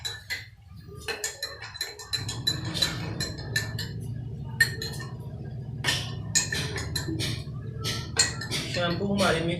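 Spoon clinking against a glass while stirring shampoo, with quick bright ticks and taps over a low hum as a person speaks.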